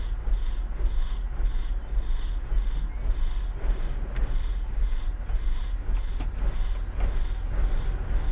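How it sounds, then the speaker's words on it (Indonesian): A car rolls past on a mining haul road, a steady broadband road and engine rumble that holds at an even level for several seconds with no talk over it. "Oh masih ada lagi mobil."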